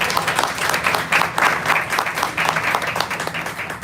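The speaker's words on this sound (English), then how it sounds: "you didn't clap loudly for it." An audience at a book launch applauds steadily for about four seconds, a dense wash of clapping that swells slightly in bursts.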